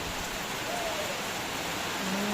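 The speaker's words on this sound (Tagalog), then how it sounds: "Ulan oh." Steady, hissing rain falls continuously, a dense wash of noise with no distinct drops standing out.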